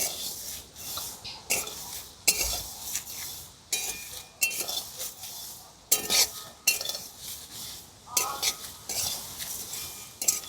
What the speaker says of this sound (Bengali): এবার আমি শুকনো খোলায় এই মশলাগুলো ভেজে নেব